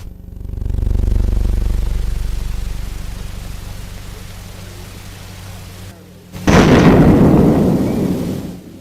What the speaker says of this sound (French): Le premier essai de la vraie fausse bombe a lieu dans le Nouveau-Mexique.